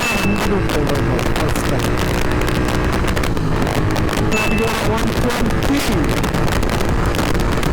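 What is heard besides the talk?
Royal Enfield GT 650 motorcycle exhaust while accelerating in gear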